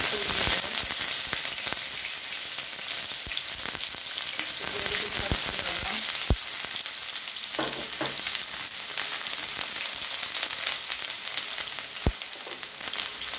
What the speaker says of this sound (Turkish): Yarım çay bardağı sıvı yağımı tencereye aldım ve kızdı. Şimdi içerisine orta boy soğanı